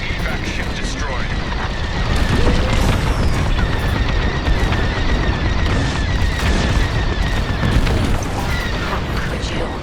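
Transport ships blow up in the Star Wars Squadrons space combat video game, with loud rolling booms and blasts layered over a continuous roar while voices talk over the action.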